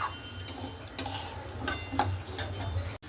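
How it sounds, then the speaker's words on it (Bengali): Moong dal is roasted for khichuri in a pan, with a spatula scraping and clinking against the metal in quick strokes over a low background hum and a faint sizzle, close and without talk. "এখানে ডাল ভাজতে বসিয়ে দিলাম মুগের ডাল"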